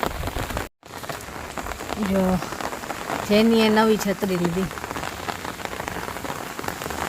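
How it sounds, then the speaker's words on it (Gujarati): Heavy rain pounds steadily on surfaces outdoors during a downpour in Rajkot, a dense close hiss throughout while a person talks briefly over it. "ચાલો વરસાદે, મસ્ત વરસાદ આવ્યો છે"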